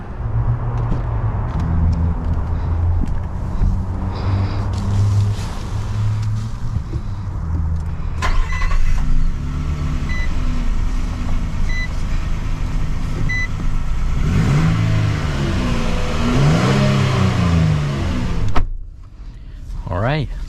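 A 2022 Nissan Frontier PRO-4X pickup truck driving, heard from inside the cab as a steady low engine and road rumble with rising and falling engine tones, a few faint clicks and beeps, ending with a brief thump.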